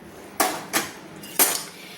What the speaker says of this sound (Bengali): লবণটা দিয়ে চামচে একটু ভালো করে নেড়ে নিলাম, গুলিয়ে নিলাম।